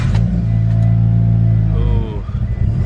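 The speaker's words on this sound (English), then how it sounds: "let's get a nice little cold start on the Evo" Cold start of a Mitsubishi Evo X MR: a loud, steady high idle drones close by, then drops and turns rougher and lumpier as the engine settles.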